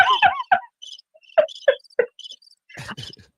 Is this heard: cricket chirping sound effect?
yes